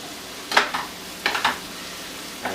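Shrimp fry in a pan over a medium flame, with a few short bursts of sizzle and clatter over a quiet, steady background hiss.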